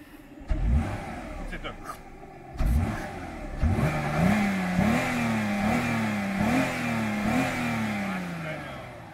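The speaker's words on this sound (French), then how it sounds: "Écoute ce petit moteur." A V6 petrol car engine starts with a few blips, then revs repeatedly in rising, falling pulses, close and throaty, settling toward idle at the end.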